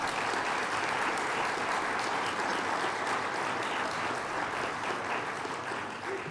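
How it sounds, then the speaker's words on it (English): Audience applause at a state university grant award ceremony held by the governor, a dense, steady wash of many hands clapping that holds throughout with little change in level. "Let's give him a round of applause."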